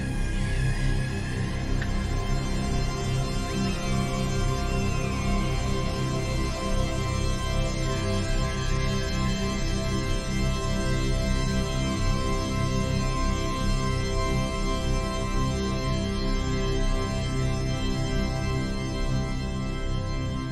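A resampled audio sample is heavily time-stretched into a dense, sustained drone. It holds at a steady, loud level with shimmering smeared tones and no pauses.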